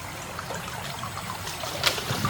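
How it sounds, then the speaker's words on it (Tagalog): Water trickling and gurgling steadily while fetching water outdoors, a continuous close stream with a brief splashy surge near the end and no talk. "nag-iigib na kami ng tubig guys"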